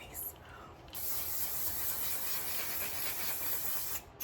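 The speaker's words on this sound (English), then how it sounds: "And we're spraying our face." A limited edition jumbo bottle of One/Size Until Dawn setting spray is sprayed onto a face: a short hiss, a brief pause, then one long, steady, close-up spray lasting about three seconds, ending in a final quick puff.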